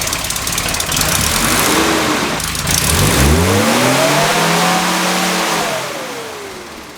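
A Nissan D21 Hardbody pickup engine revving hard, loud and close, the pitch climbing and falling through several throttle blips before settling back toward idle.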